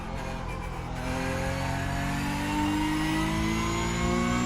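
A Porsche Cup race car in iRacing at the Hungaroring in wet conditions, its engine revving and climbing in pitch through short-shifted gears with a brief shift break early on, loud and close throughout.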